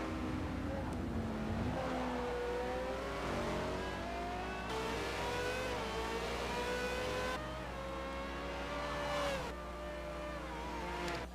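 Race car engine in Forza Motorsport during a Formula Forza French GP race, a continuous high revving whine rising and falling in pitch through gear changes, steady and fairly prominent throughout.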